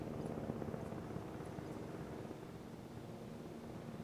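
An aircraft flies in the dinosaur park game Jurassic World Evolution, heard as a faint, steady rotor-like drone that holds evenly throughout, with no talk.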